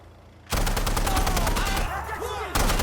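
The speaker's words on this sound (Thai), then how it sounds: "ยิงแล้ว ปืนมันสายนะคุมยากเกิน" Rapid bursts of automatic gunfire from a shooting video game at night, loud and close, a sustained rattling stream with a brief pause before firing resumes.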